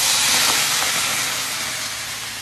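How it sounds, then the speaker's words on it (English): Chicken stock poured into a hot frying pan holding golden seared pieces, producing a loud, steady steaming hiss and sizzle that slowly eases off, with no talking. "I'm gonna just add some of my spinach chicken stock"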